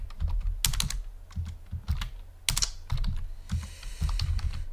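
Keys clatter on a computer keyboard in quick irregular bursts, with sharper strokes like the space or enter key standing out, close and clear with no talking.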